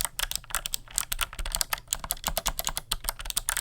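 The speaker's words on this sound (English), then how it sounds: "it's literally so smooth to type on" Rapid typing on a computer keyboard, a steady run of crisp, close key clicks and thocks with an even, quick rhythm, heard alone with no talking.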